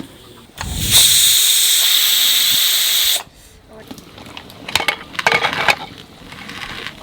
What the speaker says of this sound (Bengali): প্রেসার কুকার নামিয়ে নিচ্ছি, ওই ঢাকনাটা খুলে নেব